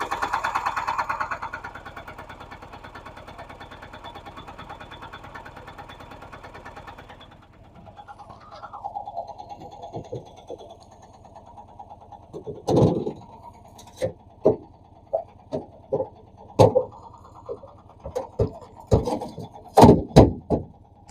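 A 2023 Mahindra Jeeto Plus BS6 diesel engine runs with a steady, even idle drone at first. A series of sharp knocks and clunks follows, some of them louder, close to the microphone.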